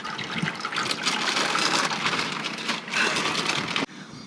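Water gushes steadily from a tap into a kettle being filled to boil for a hot water bottle, a continuous close splashing rush that cuts off abruptly near the end.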